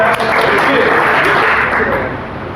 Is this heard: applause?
yes